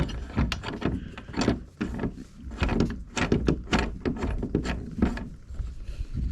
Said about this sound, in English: But to take it off, I just unscrew these all the way out.